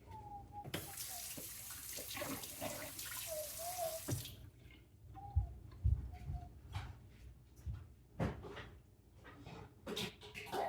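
A spoon is rinsed under a running kitchen tap after stirring sugar into an avocado smoothie, with water gushing steadily at first and then giving way to scattered drips, clinks and small knocks nearby.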